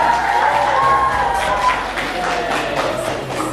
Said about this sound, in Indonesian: Yuk, sekali lagi tepuk tangannya mana biar semangat